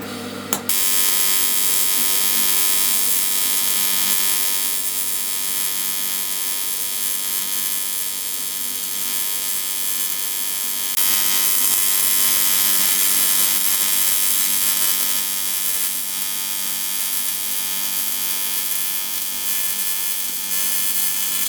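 TIG welding on a Honda CR125 swing arm repair at 120 amps with a foot pedal and high-frequency start: a steady, close buzzing hiss with an underlying hum runs unbroken throughout, with no talk.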